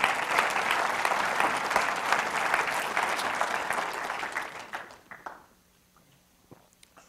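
A church congregation applauds loudly in a sustained wave of clapping that fades out after about five seconds, leaving near silence with a few scattered sounds.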